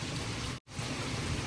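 Steady morning rain falls outside, a dense even hiss of drops with a brief cut partway through.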